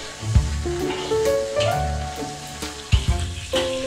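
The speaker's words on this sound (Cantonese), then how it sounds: "起油鑊，落薑片、洋葱爆香，再將肉放入鑊裏面，" Meat sizzles in a hot oiled wok with ginger slices and onion during stir-frying, a steady crackling hiss with soft scrapes and clanks, set against background music.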